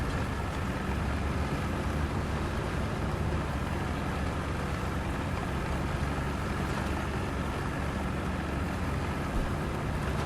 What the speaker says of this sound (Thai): เสียงของรถถังดีสามสิบสี่